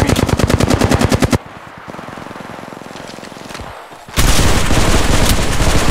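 Rapid automatic weapon fire in the mobile shooter Apex Legends Mobile, a loud sustained burst that breaks off, leaves quieter rattling, then resumes at full force with no talk.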